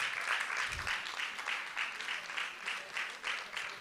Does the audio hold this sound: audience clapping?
yes